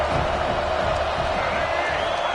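A stadium crowd roars steadily on third down at a college football game between the Florida Gators and the Miami Hurricanes, a dense continuous wash of cheering with no breaks.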